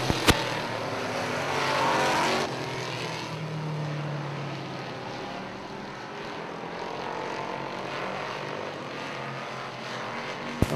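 Open wheel modified race cars roar around a dirt racetrack, engines droning loudly and steadily as the pack passes, with a louder surge early on before settling into a sustained distant rumble.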